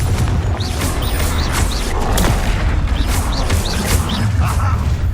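Spell blasts from Hogwarts Legacy combat, with Confringo and Incendio going off as a steady run of booms and crashing impacts over a dense, loud battle bed.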